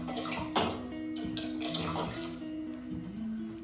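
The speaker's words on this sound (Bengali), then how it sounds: "এইটুকুনি চাল নিয়েছি তাই দশ বার ধরে ধুতে হচ্ছে" Rice being rinsed by hand in water, with steady splashing and sloshing, repeated swishes and a few louder slaps, close and continuous throughout.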